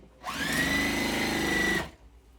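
A sewing machine runs in one steady burst of close, even mechanical whirring, stitching unpieced quilt squares together before stopping.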